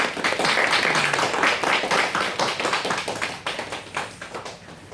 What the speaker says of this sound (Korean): 감사하다고 박수로 한번 환영하겠습니다.